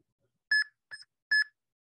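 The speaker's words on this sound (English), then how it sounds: "So we had a metronome of four beeps" Sharp electronic metronome beeps sound in a short, even rhythm, each one brief, clear and close against silence. Only three tones are present.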